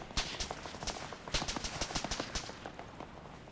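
Rapid bursts of gunfire ring out during a beach landing assault in Arma 3, sharp cracks in quick irregular volleys at moderate distance, dense at first and thinning toward the end.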